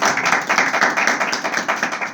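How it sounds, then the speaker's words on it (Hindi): Rhythmic hand claps from an audience at a Christmas address beat in an even, regular pulse of about eight per second, close and loud, with no talking. "तो तालियां बजा दीजिए"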